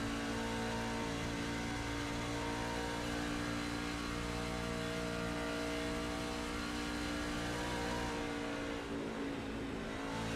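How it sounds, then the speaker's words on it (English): A race truck engine in a racing video game, held at steady high revs at full throttle around the track, a continuous loud drone with barely any change in pitch throughout. "he's keeping that truck almost wide open all the way around the track."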